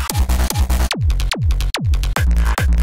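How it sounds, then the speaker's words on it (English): Psytrance kick drum samples, a punchy run of about seven deep kicks with sharp clicky attacks and fast pitch-dropping booms, played alone in a steady, slightly uneven rhythm. "I'm gonna make PSY kicks today"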